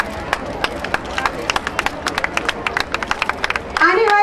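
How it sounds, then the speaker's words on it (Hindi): At a ceremony with Saina Nehwal and a government minister, an audience claps in scattered, uneven bursts of individual hand claps at moderate distance. A voice cuts in right at the end. "साथ जोरदार तालियां।"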